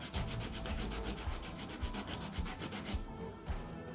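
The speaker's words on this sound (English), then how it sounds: "I also got some sandpaper here so I can try to make it even" Sandpaper rubs back and forth on a small custom action figure part in quick, regular scratchy strokes, close and fairly loud, then slows into a few separate rasps near the end.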